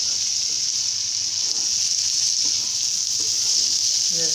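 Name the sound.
lentils added to frying spice masala, sizzling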